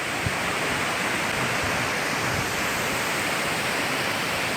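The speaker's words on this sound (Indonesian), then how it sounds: "kan airnya kenceng banget. Wah, di sini tuh ada 2 air terjun ya." The Curug Cibereum waterfall pours in a constant, dense rushing roar, loud and unbroken with no voices over it.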